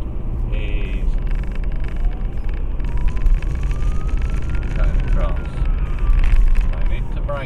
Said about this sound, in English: just because the police cars come past me.